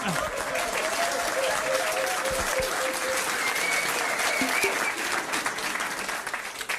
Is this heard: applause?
yes